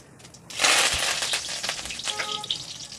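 Curry leaves dropped into hot oil already holding bay leaf, black cardamom and cumin burst into a loud, crackling sizzle that starts abruptly and keeps spitting and popping close by.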